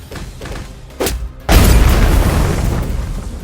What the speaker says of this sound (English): One explosion, coming up!